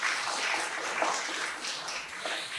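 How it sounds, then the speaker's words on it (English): Conference audience at an international peace education event applauding to welcome guests, a dense, even wash of many hands clapping that holds steady throughout. "let's give them a big applause of hands to welcome them"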